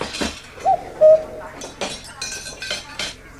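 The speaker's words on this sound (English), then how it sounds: "Lucy Leek appeared from nowhere and snatched each tablecloth from under the food and crockery" Plates, cups and cutlery clink and clatter in a quick jumble as tablecloths are yanked from under laden party tables, with a couple of sharper chinks standing out amid a busy background.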